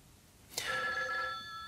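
A telephone rings once on a radio call-in show, a single bright electronic trill that starts suddenly and fades over about a second against quiet studio background.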